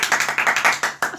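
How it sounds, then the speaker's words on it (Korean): Sharp hand claps sound up close in a quick, uneven run of about ten separate claps rather than a single one, with no speech over them. "박수 한 번만 쳐주세요."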